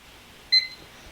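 A single short electronic beep from an auction bid timer sounds once, clear against a quiet background.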